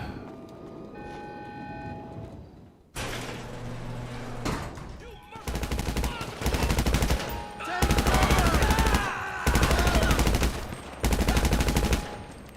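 Rapid bursts of automatic rifle fire from GTA 5 Online crack out loud and close in repeated volleys after a quieter opening, with people talking over parts of it.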